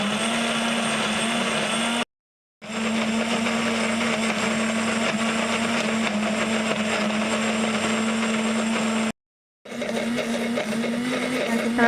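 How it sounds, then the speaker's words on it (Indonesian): A kitchen blender whirs steadily, blending three pandan leaves with water, a loud continuous motor drone with two brief pauses where it stops and restarts. "di sini aku akan blender daun pandan sebanyak 3 lembar daun pandan dan aku beri air"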